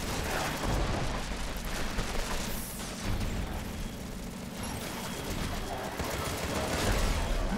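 Rapid, dense gunfire and blasts from the shooter game Contra: Rogue Corps form a continuous loud barrage of shots throughout, with no break in the noise.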